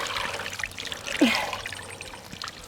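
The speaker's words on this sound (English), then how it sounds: "As long as just got to keep the water moving, that way it gets in between the feathers." A freshly butchered chicken dunked and swirled in a pot of scald water, soft close sloshing and trickling with a single fuller splash midway.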